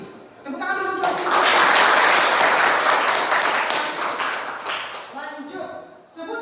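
Classroom of students in Indonesia bursts into loud, close applause for about four seconds before it fades, with a teacher's voice heard briefly before and after the clapping.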